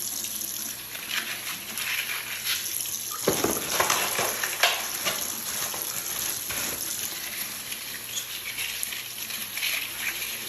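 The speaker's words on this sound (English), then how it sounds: "Just give the carbon a good rinse, get the black water out." Activated carbon filter media from a Fluval Flex aquarium filter rinsed under a running tap, a steady close rush of water into a sink with splashing bursts as the media is moved and turned.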